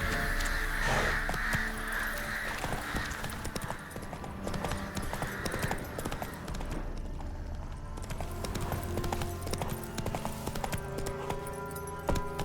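Horse hooves pound in a steady galloping clip-clop in the video game The Witcher 3, with crows cawing in the background over a continuous outdoor ambience.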